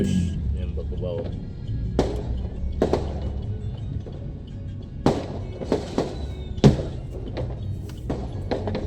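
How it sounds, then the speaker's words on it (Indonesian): Scattered New Year's firecrackers pop and bang at varying distances in Makassar at 1 a.m., sharp isolated cracks over a steady jammed-traffic rumble and background murmur. "Masih banyak petasan di sini teman."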